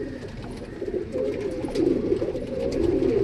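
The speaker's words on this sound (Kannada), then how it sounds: "ನೋಡಿ ಫ್ರೆಂಡ್ಸ್, ಎಲ್ಲ ಒಳ್ಳೆ ಅಕ್ಕಿಗಳಿದ್ದಾವೆ" Pigeons coo steadily, low throaty burbling calls rolling on without pause, close and fairly loud, with no talk over them.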